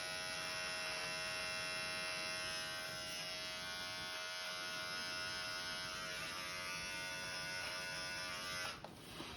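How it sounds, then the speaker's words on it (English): An electric hair clipper, guard removed, trims a beard with a steady close buzz and mains-like hum that runs unbroken for about nine seconds, cutting out just before the end. "Get your clipper without the guard."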